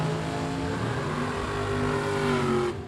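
Dragster race cars at a bracket drag race roar down the strip, a loud sustained engine howl with steady harmonic tones that holds for nearly three seconds before cutting off, with no talk.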